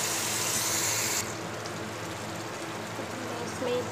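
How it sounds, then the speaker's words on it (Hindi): Water being poured into a sizzling corn and capsicum masala, a broad steady hiss that starts loud and then drops to a softer, even bubbling simmer. "अब हम इसमें थोड़ा सा पानी ऐड करेंगे,"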